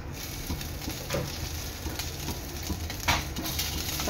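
Cooked rice being stir-fried in melted sugar in a pan for sweet coconut rice, a soft sizzle with scraping stirs and occasional clacks, steady and close with no voices.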